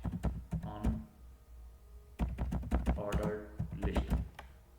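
Keys clatter on a computer keyboard in quick irregular bursts, close and fairly loud, with a short pause midway before the tapping resumes.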